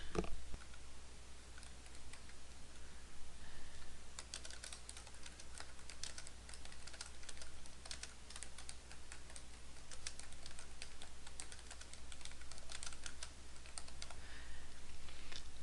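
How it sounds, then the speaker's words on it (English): Steady typing on a computer keyboard, a continuous run of close, crisp key clicks in quick irregular rhythm with no talking over them. "I can type what I want Tom to say"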